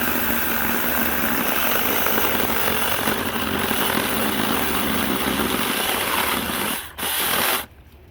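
A Bomves mini chainsaw with a 6-inch bar cuts steadily through maple, a loud continuous buzzing whine up close that drops out briefly near the end, then cuts off.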